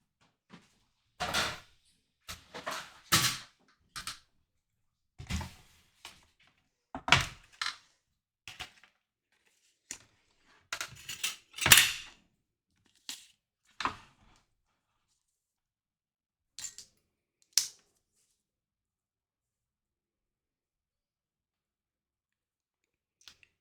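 A small die set cuts paper shapes in a craft machine, giving a string of short, separate clicks and thunks with quiet gaps between them, close by and without any talk.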